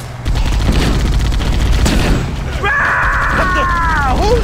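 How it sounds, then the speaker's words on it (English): Halo: The Silent Cartographer on Heroic. Dense, loud bursts of gunfire and explosive booms from a plasma burn crackle throughout, with a rising electronic whine near the end. "I thought that plasma burn was a grenade"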